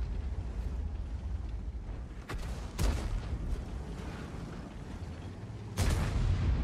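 Deep booming tank cannon shots from a video game, three sharp blasts spread over a rumbling, noisy background.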